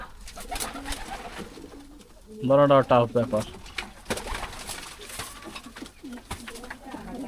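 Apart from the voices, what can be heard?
racing pigeons cooing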